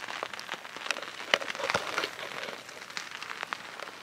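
Steady rain patters outdoors in foggy high-country mule deer terrain, a dense even wash of drops with a few slightly louder splats, no voices.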